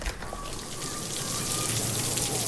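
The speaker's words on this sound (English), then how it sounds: "the rhythmic patter of raindrops" Rain patters steadily outside a bayou cabin, a dense wash of fine drops falling on surfaces that holds at an even, fairly close level and thickens slightly toward the end, with no voices.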